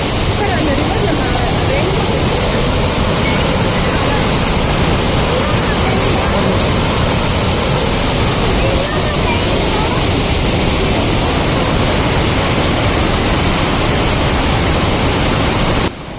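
Ripple Waterfalls in Munnar runs in heavy flow over rocks, a loud, steady, unbroken roar of rushing water that fills the whole stretch close by.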